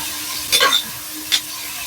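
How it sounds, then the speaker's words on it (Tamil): Tomatoes stirred into sizzling onions in a pan for home-style beef curry, with a steady frying hiss and two short bursts of stirring and scraping, close and alone. "தக்காளி போட்டாச்சு, நல்லா ஒரு மிக்ஸ் கொடுத்துடலாம்."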